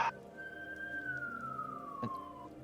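Siren heard faintly in the background, a single long tone sliding slowly downward over a low room hum, with a brief knock near the start and another near the end.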